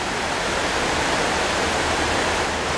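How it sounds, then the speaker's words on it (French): The river Arve cascades through a town centre in spring, a loud, continuous rush of falling water with no breaks or voices. "la rivière en cascade ici"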